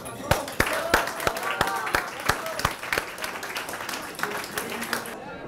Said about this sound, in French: je propose simplement qu'on l'applaudisse.